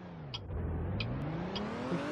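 A car engine in a role-play driving game revs up, its pitch climbing and dipping steadily, accompanied by a few brief clicks.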